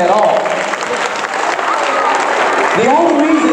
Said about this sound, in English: Yeah, you clap for that.